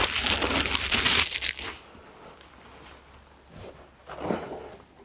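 Metal purlin fasteners jingle and clatter as they are pulled from a bag and pocketed, giving a loud burst of clinking and rustling followed by quieter shuffling and another short jingle.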